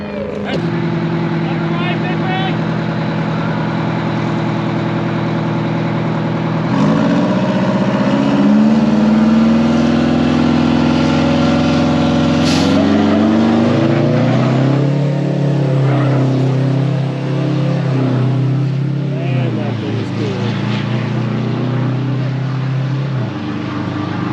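A rebuilt 1950s car's engine runs loud and close, idling roughly and then revving in surges that swell and fall, with people talking over it throughout.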